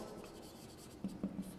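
Pen or marker writing out notes during a physics lesson on the force on a current-carrying conductor: a faint, steady scratch with a few short, slightly louder strokes near the end, no voice.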